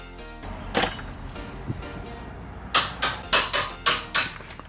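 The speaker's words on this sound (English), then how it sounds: "now I'm going to torque the subframe bolt." A wrench torquing a subframe bolt on a BMW 335i during a single turbo install: a series of six evenly spaced, sharp ratcheting clicks close by, preceded by a few scattered metallic knocks over a low steady hum.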